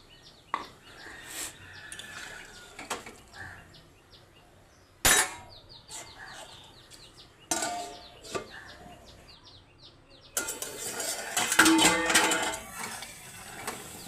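Mustard paste is stirred into curry boiling in a pot: a metal utensil clanks sharply against the pot a few times amid quiet pauses, then a louder burst of bubbling and scraping takes over near the end.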